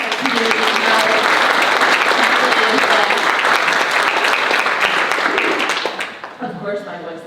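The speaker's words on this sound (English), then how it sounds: "can we have a round of applause for all of the Harford Community College?" A graduation ceremony audience at a community college leadership academy applauding, loud and dense clapping that holds for about six seconds and then trails off into a few scattered claps and a voice.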